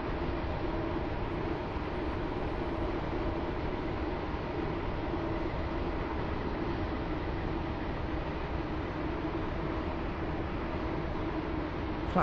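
A train in a railway video game rolls steadily into Benton station, a continuous muffled rumble and hiss holding at an even, moderate level throughout with no speech.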